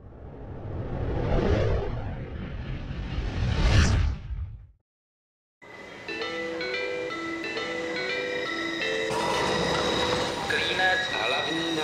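A passenger train rolls into Klínec main station with a loud rushing approach and swelling whoosh, then after a brief gap comes a station scene of tonal chimes or announcement tones over a steady hum.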